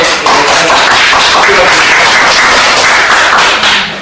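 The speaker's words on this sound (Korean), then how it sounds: "자, 우리 박수로 크게 부장님께" An audience at a policy discussion forum claps loudly and continuously, a dense, even wash of applause that holds for several seconds before tapering slightly at the end.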